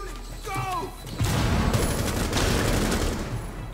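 Gunfire in Rainbow Six Siege rattles in a dense, sustained burst of rapid shots after a brief moment of voices, loud and close, continuing steadily to the end.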